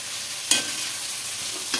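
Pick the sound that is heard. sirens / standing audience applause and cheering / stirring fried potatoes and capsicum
stirring fried potatoes and capsicum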